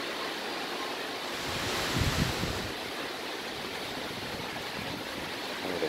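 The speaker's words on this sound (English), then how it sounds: "Oh, the wind's blowing in a little bit now." Wind blowing steadily at the shore, a constant broad rush like surf and wind noise against the microphone, swelling briefly for a moment before settling back to an even roar.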